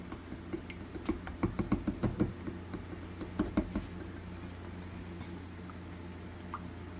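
Eggs beaten with a small whisk in a bowl, a run of quick clinking taps close by, busiest in the first few seconds, then thinning to sparse light ticks.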